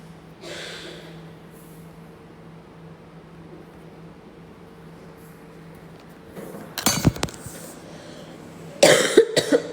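A few harsh coughs up close near the end, preceded by a quieter breathy sound over a steady low hum.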